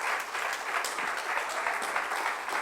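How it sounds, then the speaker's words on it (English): Steady applause from a conference audience at an IVF event, dense continuous clapping filling the room with no voices over it. "You can do better with the applause."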